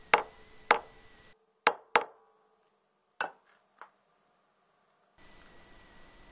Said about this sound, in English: Then place the plug and tape with a socket and a hammer